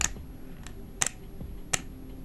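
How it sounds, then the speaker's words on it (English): Small plastic clicks as a Takara Tomy Beyblade Burst layer and driver lock together, their tabs snapping between the teeth; three or four sharp, close, quiet clicks spaced apart over a faint background hiss. "These lock in between the teeth, which makes the clicking noise when you assemble the Beyblade."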